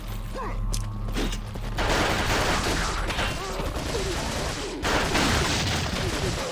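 Gunshots in the video game Resident Evil 4: a sustained, loud stretch of overlapping blasts and mechanical clatter, with a fresh burst near the end and some game sounds underneath.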